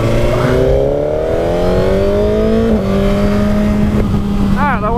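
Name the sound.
sporty car driving and accelerating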